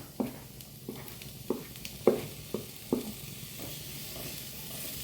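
Tomatoes tossed into hot oil with chilli and coriander powders in a pan, a continuous close sizzle punctuated by five or six scraping stirs at uneven intervals.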